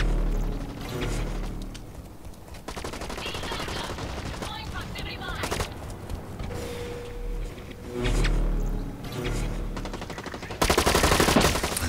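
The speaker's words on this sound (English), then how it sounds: "I shot him!" Rapid automatic gunfire in the first-person shooter Blacklight Retribution, dense bursts of shots rattling almost nonstop with mechanical clatter, loud and close, with a brief louder burst at the end.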